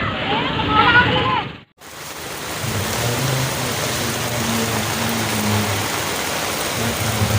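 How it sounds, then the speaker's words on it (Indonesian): Volcanic ash falling like rain during the Mount Semeru eruption in Lumajang, a steady dense hiss near the microphone after a brief dropout, with a low rumble beneath and a voice early on. "Hujan abu,"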